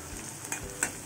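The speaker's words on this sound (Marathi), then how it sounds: "2 मिनटं कांदा मी छान मध्यम आचेवरती फ्राय करून घेतलेला आहे" Chopped onion softening in a pan over medium heat, giving a soft, steady sizzle with two brief scraping stirs from a spatula; no talking.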